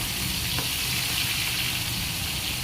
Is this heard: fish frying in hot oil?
yes